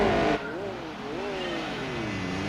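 A car in the Gran Turismo 4 racing game revs hard near the red line, with the engine pitch sweeping up and falling again in steady waves. It is loud and close, with some talk over it.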